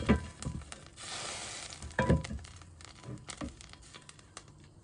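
Chunks of garlic drop into a hot pan and sizzle, with crackling bursts and stirring scrapes that rise and fall over a few seconds at fairly low volume.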